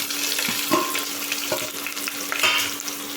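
Onion and potato frying in hot oil for dal khichdi, a steady close sizzle with occasional stirring scrapes and clinks throughout, no talking.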